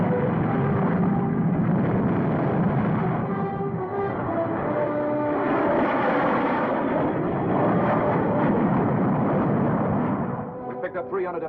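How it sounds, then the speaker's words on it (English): Transport planes drone overhead in a 1950s Cold War film, a loud, continuous heavy engine roar with a rough, rumbling texture that holds steady throughout and dips slightly near the end. "Unidentified transport planes."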